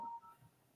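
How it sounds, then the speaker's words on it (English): A brief electronic page alert tone from a mobile phone, a single faint steady beep lasting under a quarter second, followed by quiet background. "I'm sorry. I just got paged. That was my phone."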